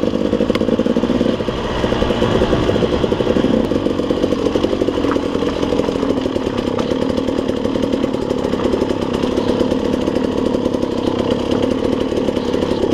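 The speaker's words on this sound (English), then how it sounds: "the bike's going this fast. Sounding like this." A dirt bike engine drones loudly and continuously while riding a rocky trail on Rampart Range in Colorado, holding a steady buzzing pitch with small rises in revs close to the listener.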